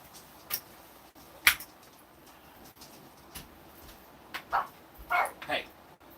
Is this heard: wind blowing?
no